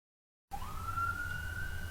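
A police car siren passing in the distance, a single rising wail that climbs and holds steady at moderate volume over low background rumble.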